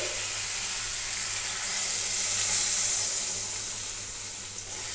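Broth poured into fish curry sizzling in a pan, a steady hissing wash of frying and liquid that swells in the middle and then settles, loud and close.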